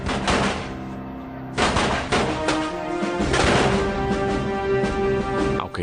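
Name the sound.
gunfire sound effect in a battle documentary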